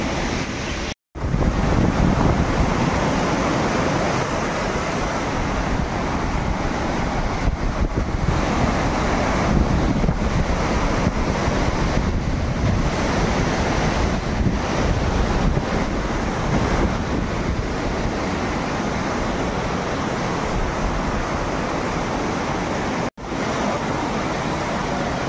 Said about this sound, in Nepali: खोला बढो बागमती डेन्जर बढेर छ